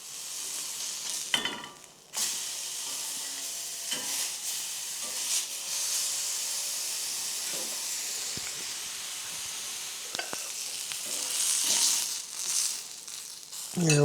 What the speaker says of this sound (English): got the carbon steel pan going. And so we're just going to fry this up